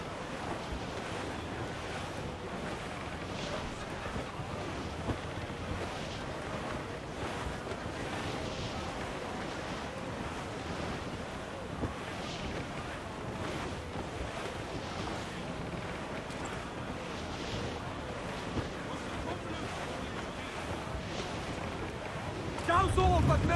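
A squall at sea in the Assassin's Creed IV video game, with steady roaring wind and crashing surf around a sailing ship for more than twenty seconds. The wind noise is dense and broadband, and voices can be heard faintly underneath.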